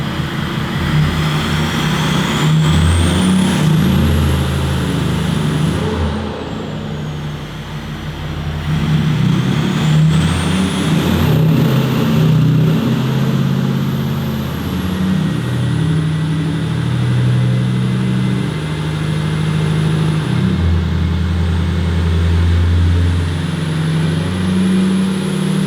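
A modified diesel truck engine with its DEF system removed revs hard during a power run, producing a loud sustained low roar with a whine that rises and falls over the long pull, and no voices.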